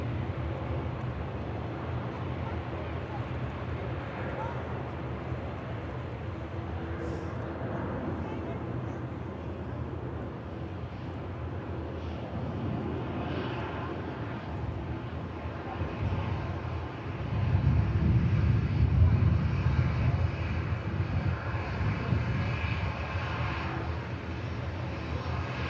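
A Canadian Air Force Hercules arrives at an airport, its turboprop drone a low, distant rumble that swells noticeably toward the end; no one speaks.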